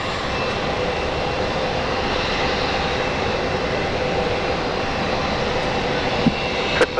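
A Jetstar jet airliner takes off from runway 19 left at Brisbane International Airport, producing a steady, loud, broad roar that holds evenly for the whole stretch without a clear rise or fade.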